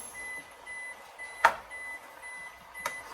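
Two short electronic refrigerator door-open alarm beeps sound a little over a second apart against a quiet indoor background.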